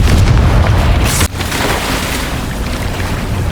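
A Confringo spell explosion in the video game Hogwarts Legacy bursts loud and sharp about a second in, then gives way to a steady rumbling wash of game ambience.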